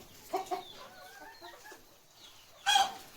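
Chickens cluck inside a low-cost farm shed, with a pair of short calls early on and a louder, sharper call near the end, set against quiet background and no talking.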